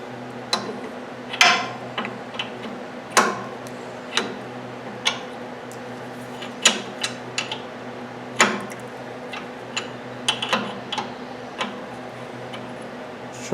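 A wrench screws a part into a 1960s vintage VW buggy engine, giving irregular sharp metallic clicks and ticks close by against a low background hum.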